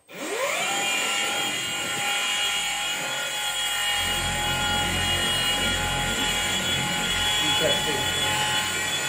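A car detailing polisher runs on its lowest speed setting with a steady, loud mechanical whir, its tone shifting slightly partway through.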